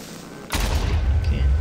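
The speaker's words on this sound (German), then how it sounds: "Hab ja irgendwo ein Creeper explodiert." A Minecraft creeper explodes in one sudden, loud boom that cuts in abruptly and then rumbles on low and heavy, with no talk over it.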